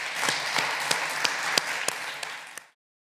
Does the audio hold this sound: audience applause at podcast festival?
yes